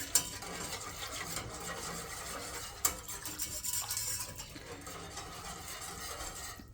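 Sausage gravy being stirred in a pan for buttermilk biscuits, a soft continuous scraping and swishing with a couple of sharp utensil clinks against the pan, fairly quiet and close.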